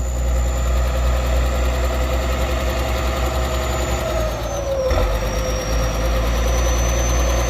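A Ford 7840 tractor engine runs at low revs while prying out a tree stump, a steady deep diesel rumble with a faint whine that dips slightly midway, loud and close with no voices.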